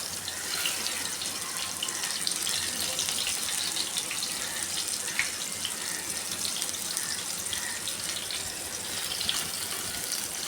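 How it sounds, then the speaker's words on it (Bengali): Pointed gourd (potol) pieces frying in hot oil in a pan give off a steady, fairly quiet hiss and crackle that continues evenly without talk. "তেল গরম হয়ে গেছে, এবার আমি মাখিয়ে রাখা পটলগুলো এইভাবে তেলে ছেড়ে দিচ্ছি"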